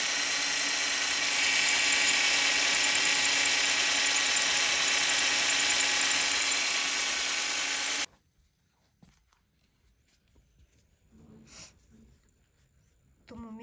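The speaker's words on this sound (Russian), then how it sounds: "О, вообще сверлить офигеть." A power drill runs at a loud, steady high-pitched whine for about eight seconds, then cuts off abruptly, leaving quiet handling clatter and faint background noise, with no talk heard.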